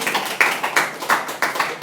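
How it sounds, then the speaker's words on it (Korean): A small group at a regional political forum event claps briefly, with a few uneven bursts of hand claps, close and fairly loud, and no voices. "다시 한번 큰 박수 부탁드립니다"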